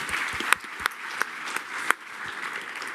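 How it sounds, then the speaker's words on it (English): Conference audience applauding after a panel on tokenization: a sparse, modest patter of claps from a smallish crowd, with a few sharp, louder individual claps standing out against a soft background. "A roaring round of applause for BitBond's Radoslav, Albrecht,"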